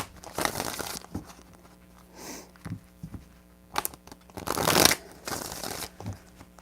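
Tarot cards are shuffled in several separate bursts of crisp riffling and flapping, close and fairly loud, with quiet handling pauses between them.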